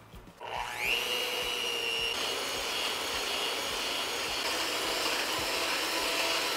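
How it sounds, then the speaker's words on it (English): An electric hand mixer fitted with a whisk attachment whips egg whites for a gluten-free German chocolate cake. After a short pause it spins up to a steady, close, high-pitched whir that keeps going without a break. "using a hand mixer again, but switched out with the whisk attachment, we're gonna be whipping these up to where they're just light and foamy"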